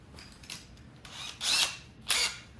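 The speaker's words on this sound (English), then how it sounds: "put that in your drill and go ahead and drill your pilot holes" An extended drill bit bores pilot holes through large mounting holes for a motorcycle audio unit, in two main bursts of whirring drilling preceded by a few shorter tool sounds, close and moderately loud.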